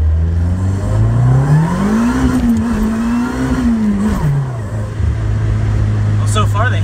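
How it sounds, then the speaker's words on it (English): A Honda Civic engine with a newly replaced manual transmission revs hard during power shifts, pitch climbing, holding, then dropping between gears, loud and close, with a voice talking over it. "Test it by doing some power shifts."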